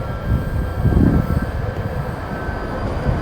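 A London Underground Northern Line train at a platform on the southern stretch between Balham and Morden, a low rumble swelling near the start and then settling into a steady mechanical hum.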